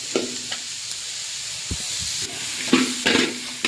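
Cabbage sautéing in a pan for hotel-style noodles gives a constant hissing sizzle, broken by several sharp spatula scrapes and clacks against the pan, close and moderately loud, with no voices.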